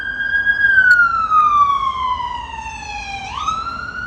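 An ambulance siren sounds loud and close on a busy road, its wailing tone sliding slowly down, then sweeping back up near the end, over steady traffic rumble.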